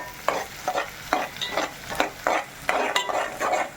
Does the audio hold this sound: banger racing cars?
no